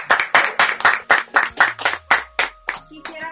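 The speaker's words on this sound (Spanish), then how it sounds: "Un aplauso, por favor." Steady, rhythmic applause at a birthday celebration: about a dozen loud, evenly spaced claps in unison, close by, with faint sustained tones humming underneath.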